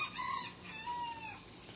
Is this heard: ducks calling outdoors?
yes